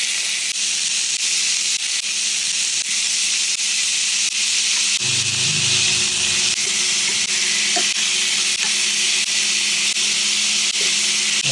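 Marinated chicken breast, soaked in soy sauce, calamansi and garlic, sizzles steadily as it pan-fries in hot oil, a continuous close hiss with a brief louder crackle partway through.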